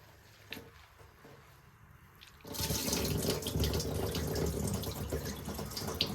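Soaked, fermented grains are strained and water suddenly gushes and splashes in a steady, loud rush after a couple of seconds of quiet drips and handling.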